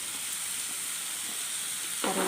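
Beef fry sizzling steadily in a hot pan with tomatoes being sautéed, a continuous close hiss that turns brighter and louder as the pan is stirred at the end.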